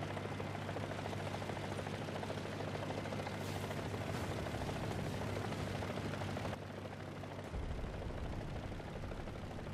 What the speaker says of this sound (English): Okay, we do have a helicopter.